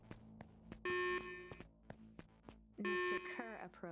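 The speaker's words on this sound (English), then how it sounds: "You can turn off the alarms." Two bursts of a ringing electronic alarm sound in the Beacon Pines video game, each lasting about half a second and standing out loudly against a background of sparse clicks and soft game sounds.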